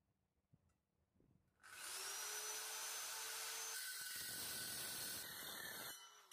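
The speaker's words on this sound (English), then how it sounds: "Despite trying to cut aluminum with an old circular saw that has a horrifically dangerous amount of play in the arbor, it cut through easily." An old circular saw with a loose, wobbly arbor spins up and cuts through aluminum, a loud, sustained high-pitched whine and rasp lasting several seconds before winding down.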